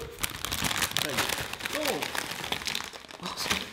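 A crinkly bag of purple corn crisps is torn open with loud, close crumpling and crackling, while a voice talks over the rustle.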